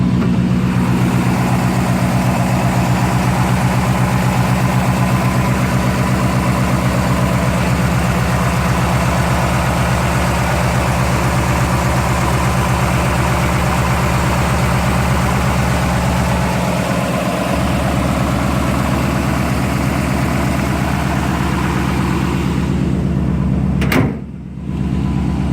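A 1956 Mercury Montclair engine idles slightly high while warming up, a steady low rumbling hum that holds for the whole stretch, with a brief thump near the end.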